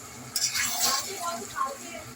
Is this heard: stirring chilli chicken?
yes